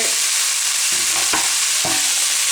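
Chopped pork fries loudly in a pan, a strong constant sizzle broken by a few sharp stirring scrapes, with no one speaking.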